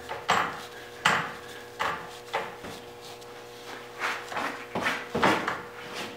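Burl wood blank being threaded onto a lathe screw chuck, a series of soft wooden knocks and scraping rubs at irregular intervals, close and fairly quiet with no talking.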